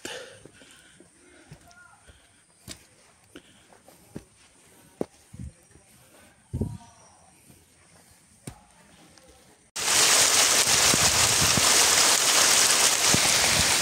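Heavy rain pours down during a hike up Mount Ungaran via the Perantunan route, arriving suddenly as a dense, loud, steady hiss after a stretch of quiet footsteps, scattered knocks and low talk.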